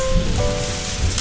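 Steady rain patters on an outdoor surface, a dense even hiss of drops with no voices.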